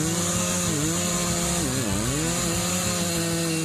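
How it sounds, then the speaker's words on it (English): A Husqvarna 3120XP chainsaw cuts into wood with a loud, close, continuous whine that dips in pitch as the bar bogs down in the cut and then recovers. "Husqvarna 3120XP is known as one of the most powerful chainsaws."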